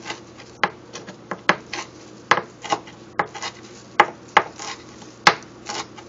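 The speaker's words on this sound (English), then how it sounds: "I'm going to go ahead and chop that up" A knife chops a large bunch of fresh parsley on a cutting board. It makes a dozen or so crisp, sharp taps at an uneven pace, close by and fairly quiet.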